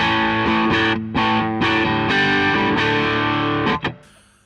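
An Epiphone Les Paul Junior electric guitar with a single P90 pickup, played through amp simulators, strums distorted chords, several ringing strums with brief gaps, ending in a couple of sharp muted hits.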